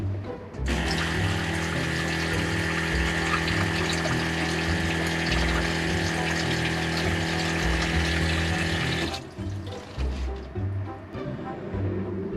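Water runs from a new galley faucet on a 32-foot sailboat while its pump drones with a steady hum, a loud continuous gush for about eight seconds that then cuts off, leaving faint knocks and clatter.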